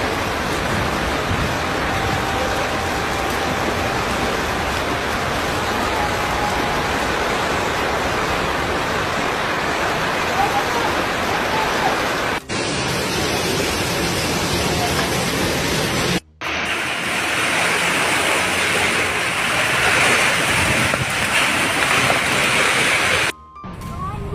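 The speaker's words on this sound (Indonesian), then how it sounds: "berarti kencang kali hujannya ya" Heavy rain pouring during a violent storm with hail and flooding in Depok, a dense, loud, continuous roaring wash broken by a few abrupt cuts.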